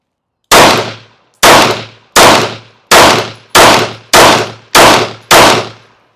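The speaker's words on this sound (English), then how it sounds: "let's just start it off by shooting it in." Eight loud, close pistol shots fired at an even pace while zeroing a red dot sight, each a sharp crack with a decaying ring, separated by silence and without talking.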